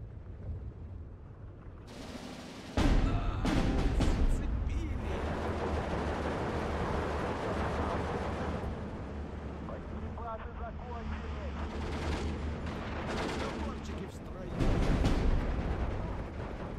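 Artillery barrages in the WW2 real-time strategy game Steel Division 2 boom loudly and repeatedly over a rumbling battlefield, with heavier blasts near the start and end and someone talking through much of it.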